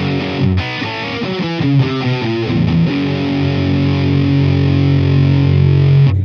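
Heavily distorted electric guitar through combined, normalized cabinet impulse responses plays a few quick chords, then one sustained ringing chord that holds before cutting off abruptly.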